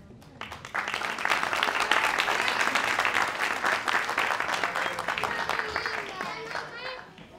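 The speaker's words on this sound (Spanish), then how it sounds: "recibo con un fuerte aplauso a la profesora Lina Nazar y sus alumnas" A crowd applauds as a teacher and her students are welcomed onstage, the clapping swelling after a brief quiet start and staying busy throughout, with chatter and children's voices mixed in and a few high vocal sounds near the end.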